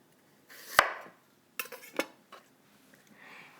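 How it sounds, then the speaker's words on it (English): A knife cuts a peeled zucchini in half on a board, giving a few quiet, separate clacks and taps with soft rustling between them in an otherwise still kitchen. "So I'll go ahead and peel the zucchini. And I'll cut it in half."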